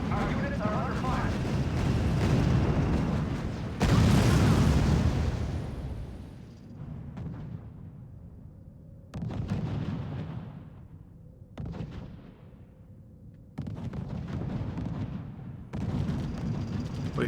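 Heavy artillery fire and explosions from the strategy game R.U.S.E. boom in repeated loud bursts, each one trailing off into a rumbling decay. A voice speaks over the barrage.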